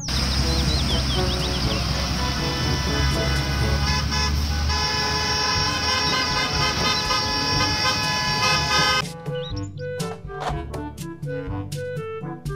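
A toy school bus horn toots in repeated short honks amid a busy mix of toy vehicle sounds, music and effects, loud and continuous, before ending in a few sharp separate blasts.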